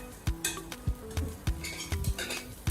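A spoon scooping pancake batter from a mixing bowl for fluffy pancakes, with repeated close scrapes and clinks against the bowl in an irregular rhythm, some sizzling in the background.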